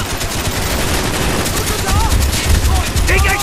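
A machine gun turret in Call of Duty Black Ops, set in the Vietnam War, fires rapid, loud, dense bursts close by, with battle noise around and a voice calling out near the end.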